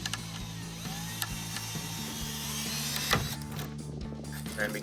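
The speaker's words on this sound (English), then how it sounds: "This is my 3/16 inch drill bit." A drill with a 3/16 inch bit drills out rivets on a Dodge Charger rear diffuser, giving a steady close motor whine with a pitch drop partway through and brief grinding bites.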